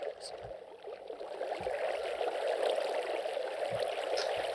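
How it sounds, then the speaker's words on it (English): Steady flowing water in the Minecraft video game, a continuous broadband wash that runs loud and unbroken through the whole stretch, with faint low thumps scattered underneath. "The water sounds, because that's all I hear right now."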